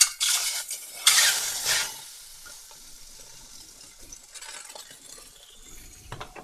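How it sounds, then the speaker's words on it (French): Ravioli tipped from a can into a saucepan give a loud wet sizzling and scraping burst at the start, then fade to quiet faint stirring and clinks. "c'est parti pour les raviolis dans la casserole"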